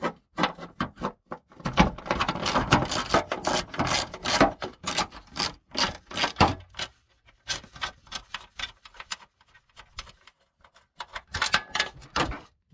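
Bolts being loosened and removed from the front fender of a Porsche Panamera 4S, close clicking ratchet bursts and metallic rubbing in irregular runs with short quiet gaps.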